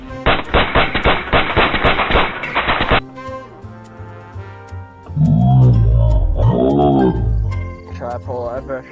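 A fast loud burst of gunshots in the survival game DayZ on a modded server, lasting about three seconds, followed by quieter ambience and people talking.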